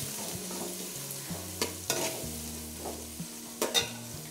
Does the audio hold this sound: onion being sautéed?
yes